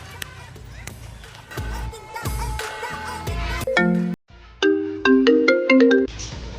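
Mobile phone ringtone while a call is being placed, clear repeated electronic melodic tones in short bursts, heard over background noise and some thumping.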